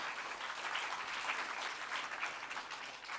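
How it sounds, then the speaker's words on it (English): An audience applauds at a national sustainability quiz final, steady clapping from many hands filling the hall at moderate loudness for a few seconds with no talk over it. "A round of applause"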